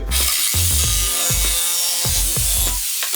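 A jigsaw cuts through a broken wooden skateboard deck in loud, close bursts, the motor buzz rising and dropping with several short strokes and brief pauses between passes.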